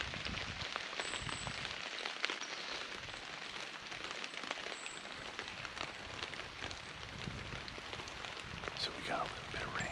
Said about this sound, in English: So we got a little bit of rain.